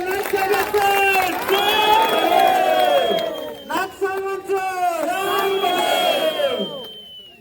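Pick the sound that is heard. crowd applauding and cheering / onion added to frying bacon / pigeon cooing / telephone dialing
crowd applauding and cheering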